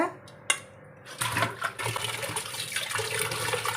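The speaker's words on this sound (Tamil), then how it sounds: "நான் இப்போ ரெண்டையுமே ஒன்றா சேர்த்து நான் கழுவுறேங்க" Prawns and fish, sankara and kanangathan, being washed and rinsed together in water, with a single sharp knock near the start followed by steady sloshing and splashing up close.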